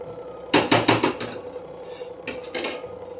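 A plate set down onto another dish in a home kitchen gives a quick cluster of ceramic clinks and rattles, then a second, lighter pair of clatters a moment later, close and loud with no talking.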